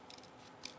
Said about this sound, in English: So I'll take my little scissors here